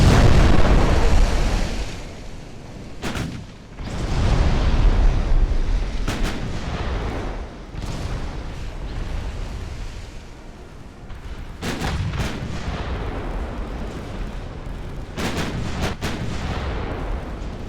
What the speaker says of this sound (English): Back around for another broadside.